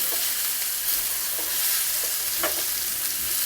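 Chicken tikka pieces sizzle steadily in a hot pan, a continuous close frying hiss with a few soft stirring scrapes and no voices.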